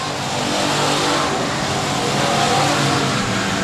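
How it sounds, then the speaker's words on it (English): An Eric Martin-built MRC race car with an AMS by Kettler engine accelerates at a dirt speedway, a loud, continuous, throaty roar that holds steady near the listener with no talking over it. "The Eric Martin built MRC race car's got this AMS by Kettler power barking like a big dog underneath the hood"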